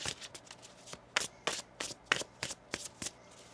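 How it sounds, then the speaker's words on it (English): Rapid crisp riffling of tarot cards being shuffled, in repeated short bursts at an even rhythm, close and clear with no voices. "One more shuffle here."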